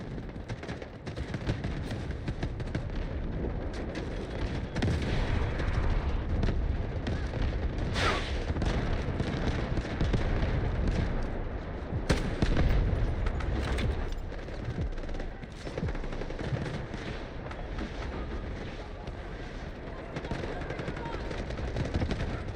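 A video game artillery barrage booms amid steady bursts of gunfire and explosions, a dense, loud battle din that continues throughout with occasional heavier blasts.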